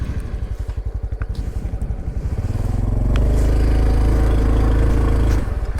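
A Honda Trail CT125 motorcycle riding a forest mountain road, its small single-cylinder engine thumping steadily close by, then rising into a stronger, sustained drone as it pulls harder.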